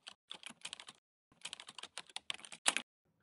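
Bursts of clicky computer keyboard keystrokes, a quick run of taps, a pause, then another fast flurry ending in a sharper key press, close and clear with no talking, as a command is typed into a Wi-Fi network tool.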